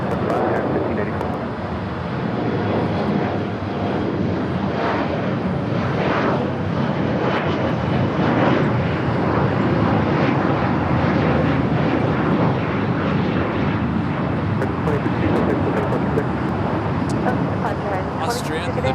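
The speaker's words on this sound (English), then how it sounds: "Austrian, the 777-200ER flight coming in from Vienna" Austrian Airlines Boeing 777-200ER arriving from Vienna and landing on runway 25 left at Los Angeles airport, a broad steady jet roar that holds loud throughout, with wind noise and people talking over it.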